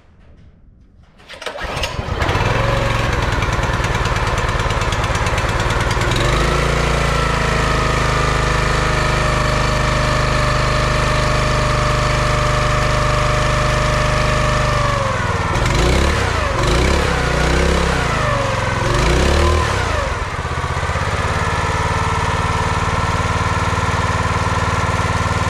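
The small gasoline engine on a wood splitter, just fitted with a new carburetor, fuel bowl and gaskets, starts after a brief pull and then runs loudly and steadily nearby, with the revs wavering briefly partway through.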